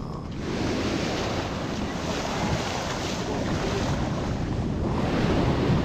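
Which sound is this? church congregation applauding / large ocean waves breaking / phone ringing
large ocean waves breaking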